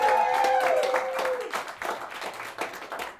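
Scattered applause and claps from a live-event audience, fairly faint and uneven, with a brief tonal sound at the start and some background voices.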